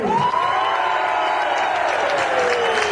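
A festive crowd applauds and cheers for the creator of a song, a loud, sustained mass of clapping with scattered whoops and voices.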